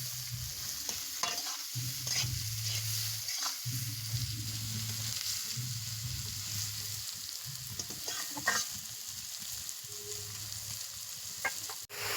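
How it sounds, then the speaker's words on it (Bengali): Onions fry and are stirred in a pan on a village clay stove, a constant hiss of sizzling broken by repeated scraping strokes of a spoon against the pan, close and clear. "পেঁয়াজগুলো ভাজা হয়ে গিয়েছে"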